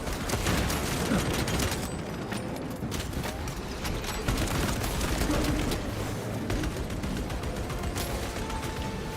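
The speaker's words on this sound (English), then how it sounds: "Throwing frag grenade." Frag grenade blast and battle noise from Space Marine 2 against the Tyranid horde: a dense, steady wash of explosive rumble, mechanical clatter and scattered gunfire, moderately loud throughout.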